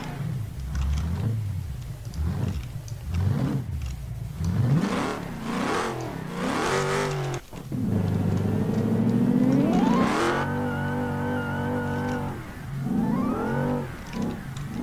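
A car engine in the driving game BeamNG.drive revs repeatedly and then accelerates hard through rising gear pulls, loud and close throughout, with steady high-pitched whine during the longer climbs.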